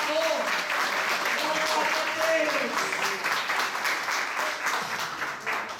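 Congregation applause during a Portuguese-language church service, continuous crowd clapping throughout with voices and cheers mixed in over it.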